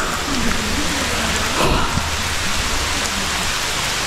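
Heavy rain pours steadily at a forest waterfall on a trekking route during a storm, a loud, dense hiss close to the mic with drops spattering on nearby surfaces and a faint low rumble underneath.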